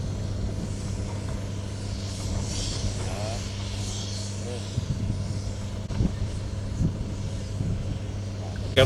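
A calibration aircraft at Toraja Airport gives a steady, droning engine rumble across the whole stretch, with a voice speaking over it.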